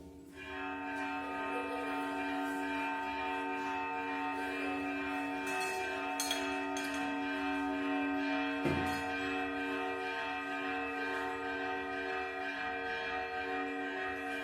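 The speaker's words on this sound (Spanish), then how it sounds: "Vamos a esperar a que pasen las campanadas." A church bell peals close and loud, a sustained ringing tone with layered overtones that fills the whole stretch, with one stronger struck hit midway and no voices.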